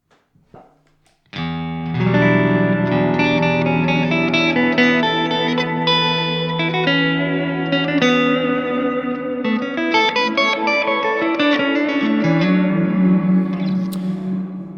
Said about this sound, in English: with the pre-delay, we have just a little bit more clarity because the reverb is less in the way of the dry signal